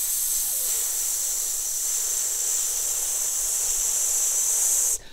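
A slow, controlled hissing exhale through the teeth as a singing breath exercise, one long steady breath held at even pressure for about five seconds before it cuts off abruptly.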